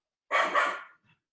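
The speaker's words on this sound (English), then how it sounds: "that's David's doggy, I think" A dog gives one short, fairly close bark, a quick double burst, followed by a faint trailing sound and then quiet.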